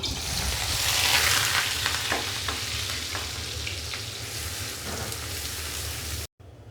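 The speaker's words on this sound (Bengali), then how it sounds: "কড়াইতে তেল ভালো করে গরম করেছি এবার দিয়ে দেবো পেঁয়াজ কুচি" Chopped onion fries in hot oil in a wok, a loud close hiss and sizzle with scattered spatters that settles slightly, then cuts off abruptly near the end.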